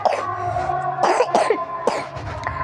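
A person with a severe, heavy cough lets out a few harsh, close coughs in quick succession over a low background hum.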